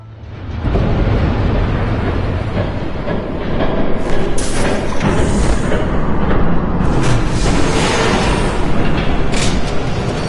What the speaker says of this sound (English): There's a train coming.